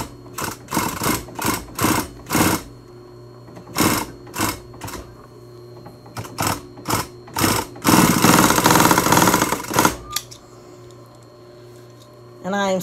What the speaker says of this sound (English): And I am sewing on a Conso commercial machine.